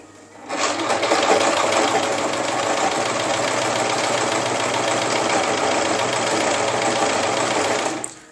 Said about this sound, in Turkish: Tekrardan ayak kaldırma koluyla ayağımı aşağı doğru indiriyorum ve dikişe başlıyorum.